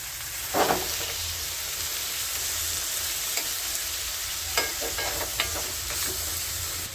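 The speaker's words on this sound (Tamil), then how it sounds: "இதை நல்லா பிரட்டி போட்டுடலாம்." Pomfret fish being tossed in a hot pan, a steady loud sizzle and frying hiss throughout, with a few soft clinks and scrapes as the pieces are turned.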